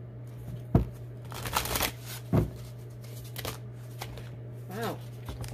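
Tarot cards being shuffled by hand, close up: several brisk riffling and slapping bursts separated by short pauses over a faint steady hum, with no talk.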